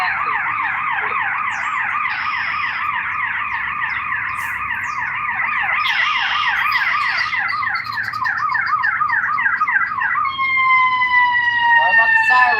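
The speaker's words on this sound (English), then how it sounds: "Sorry about the sirens." Emergency vehicle sirens wail steadily at a fishing spot, loud and continuous, with a rising and falling tone that shifts into a higher yelp near the end.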